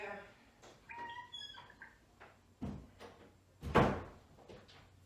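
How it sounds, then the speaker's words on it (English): A door is pushed shut indoors, landing with a couple of heavy thuds, the loudest near the end, after a brief stretch of speech at the start. "Matthew, could you close that door?"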